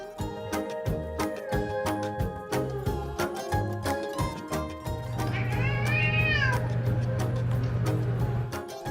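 Orange cat meowing: one drawn-out, rising and falling meow over a loud, bouncy music track that has a rhythmic beat, fairly close, with no talking.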